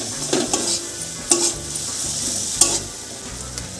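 Onions frying and being stirred in a pan for a ridged gourd (chichinga) curry, a steady close sizzle with repeated scraping stirs.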